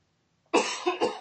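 A single adult cough during a livestreamed podcast, sharp onset followed by two quicker follow-up bursts, close to the microphone and loud against near silence.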